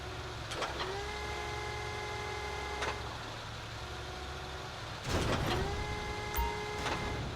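Heavy container handler in GTA 5 clamping onto a shipping container: steady low machinery drone with hydraulic whine and metallic clunks, a sharp mechanical burst near the end, no speech.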